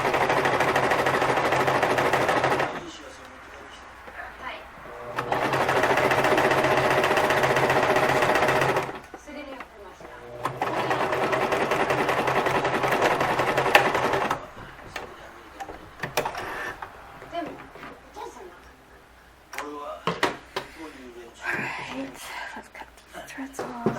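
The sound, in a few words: sewing machine stitching fabric pleats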